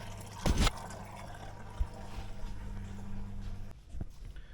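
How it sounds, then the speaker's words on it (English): Antifreeze draining from the overflow tank of a Jeep Grand Cherokee, a faint steady trickle of liquid with a couple of short splashing bursts near the start and end. "I have been doing a pretty good job of draining the antifreeze out of the overflow tank"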